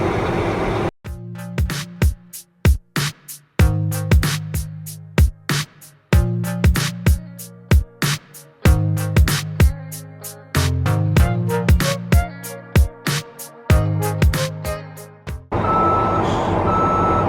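A pickup truck backs up to hitch an RV trailer, its reversing alarm beeping loudly and rhythmically in a long repeating series over a low engine idle, with the beeping stopping near the end.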